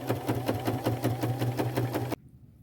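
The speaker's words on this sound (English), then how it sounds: "Now I'm just going back to my machine and sew that hole closed." A sewing machine stitches through leather in a fast, even rhythm of loud, close mechanical thumps for about two seconds, then stops abruptly.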